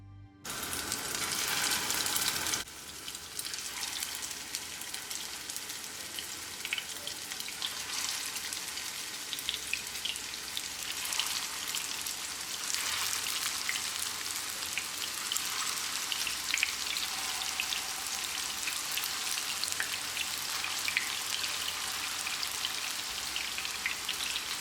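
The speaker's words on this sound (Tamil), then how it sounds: "லோ ஃப்ளேமில் வச்சு ஃப்ரை பண்ணிக்கோங்க." Food sizzling in hot oil over a low flame, a dense continuous crackle and hiss for kara kuzhambu, close and steady, with no voices.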